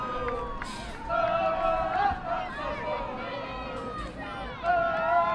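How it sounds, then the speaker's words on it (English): A large crowd at a women's soccer match roars and cheers continuously in the distance, swelling and dipping, with excited voices mixed through the noise. "You hear the crowd getting into it a little bit."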